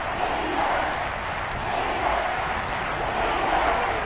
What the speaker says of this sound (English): this is where the KC crowd can make it very tough